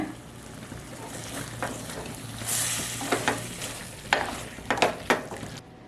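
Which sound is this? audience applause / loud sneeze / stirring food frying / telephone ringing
stirring food frying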